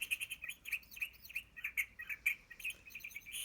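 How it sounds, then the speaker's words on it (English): Busy chorus of small birds chirping and twittering on a spring morning in a forest, a storybook sound effect with quick repeated tweets layered close together and no talking. "The birds were chirping."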